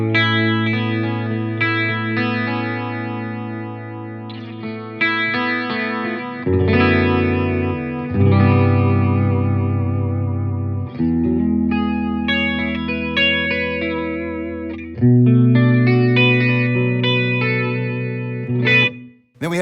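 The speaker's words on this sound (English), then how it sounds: "Next up we have chorus at position 6." Guitar chords played through a Fender Champion 100XL amplifier with its chorus effect, giving a shimmering, slightly wavering tone as sustained chords ring and change every few seconds, close and loud with no talking.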